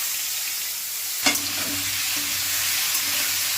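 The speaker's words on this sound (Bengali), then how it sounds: "আমি দিয়ে দিলাম কড়াইয়ে সাদা তেল আর একটু হলুদ, এরপর একটু লবণ দিয়ে দেবো, দিয়ে আলুটাকে ভেজে নেব" Potatoes fry in white oil with turmeric in a wok, a steady loud sizzle with a sharp clatter as they go in, then continuous frying hiss throughout.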